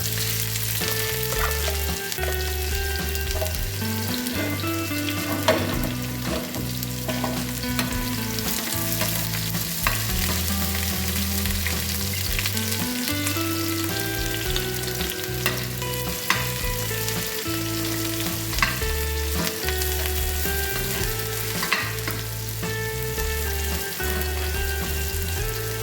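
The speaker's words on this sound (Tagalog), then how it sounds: "uunahin ko ang sibuyas at luya" Onion and ginger sizzle steadily in a hot pan for Ilocano-style chicken neck soup, with occasional stirring clatter over the continuous frying hiss and a low background hum, no talk.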